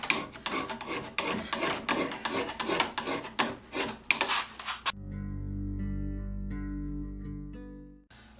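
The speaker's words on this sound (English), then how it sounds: "this file is all scraped out, both sides." Copper scraping across a steel file, a close, rhythmic rasping with repeated strokes for several seconds, then a sustained metallic ring as the file vibrates after the scraping stops.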